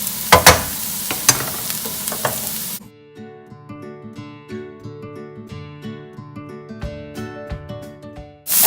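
Zucchini frying in a pan, a steady bright sizzle with a clattering stir, then quieter crackling and popping of oil as the slices settle, close and loud.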